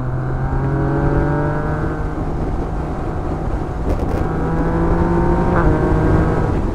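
Yamaha MT-09 (2020) motorcycle engine droning at steady high revs while riding, its harmonic tone rising and falling slightly, loud and close with wind rush throughout.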